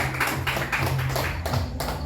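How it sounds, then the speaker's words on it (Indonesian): Hands clap in a steady, quick rhythm in an elementary school setting, moderately loud, with a voice murmuring faintly beneath. "Ya, tepuk tangan."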